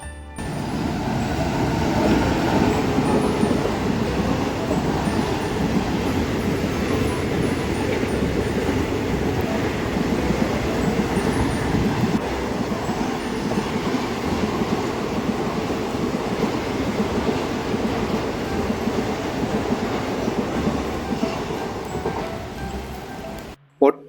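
A train rumbling past at Muthalamada railway station, a loud continuous roar with wheel clatter that holds steady for over twenty seconds before cutting off, a voice talking over it.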